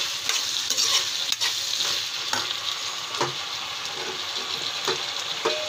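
Mixed vegetables of peas, brinjal and potato are stirred in a hot pan: a continuous bright sizzle with repeated spoon scrapes and taps against the metal, close and without speech.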